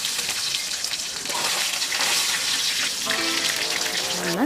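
Pieces of catla fish coated in salt and turmeric frying in hot oil, a dense, steady crackling sizzle heard up close, with a brief metallic scrape near the end.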